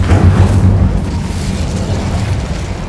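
An Incendio fire spell cast in the Hogwarts Legacy video game, a loud, close burst of flame with a deep booming whoosh that rumbles and fades over a few seconds.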